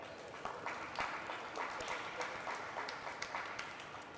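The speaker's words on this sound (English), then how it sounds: "give them a big round of applause" Scattered clapping from an audience at a Newark African Commission event celebrating freedom fighters, a steady patter of applause heard at moderate distance with a noisy, roomy background.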